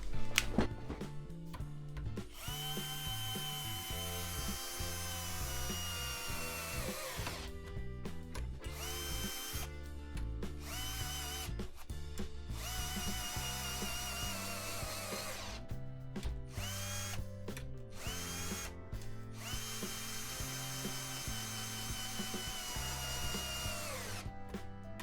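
A power drill drives a universal socket, whirring continuously for about twenty-five seconds with repeated rising and falling motor pitch as it speeds up and slows, broken by brief pauses, with a faint ratcheting clatter underneath.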